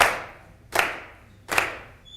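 Three sharp, evenly spaced hand claps, roughly 0.8 seconds apart, from an audience clapping along at a Middle Eastern and South Asian fusion percussion performance, close and fairly loud with no voices.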